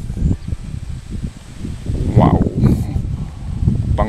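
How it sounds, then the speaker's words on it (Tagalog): Gusty typhoon wind rustles through leaves in steady waves, with a few brief bursts of nearby voices and movement mixed in. "Mahangin lang ngayon guys kasi may bagyo."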